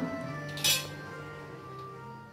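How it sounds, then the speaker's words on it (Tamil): Spoon clinking against a pan while onion gravy is stirred for phulka, roti and chapathi, then a lid set down with a single bright metallic clatter; light kitchen clinks continue at moderate level, no talking. "இப்போ நம்ம கிரேவியை நல்லா கலந்து விட்டுட்டு ஹை ஃப்ளேமில் வச்சு மூடி வச்சிடலாம்"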